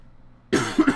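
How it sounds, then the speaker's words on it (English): A man coughs during a spoken narration, a sudden harsh burst followed by two quick rougher hacks, close and loud after a near-silent start. "Sorry, my cough. I should have muted it."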